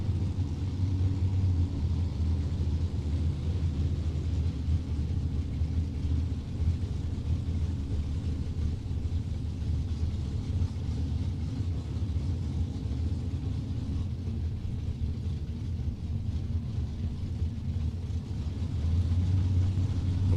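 Low, steady engine rumble from a Camaro and a Maverick drag racing cars rolling slowly into position at a no-box elimination round, a continuous heavy drone heard at some distance.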